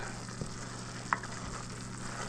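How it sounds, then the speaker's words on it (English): A roux fries quietly in a hot pan while being stirred constantly as it browns, giving a soft, steady sizzle with one sharp utensil tap partway through and no voices. "So we're going to continuously stir this roux until we get the color that we're looking for"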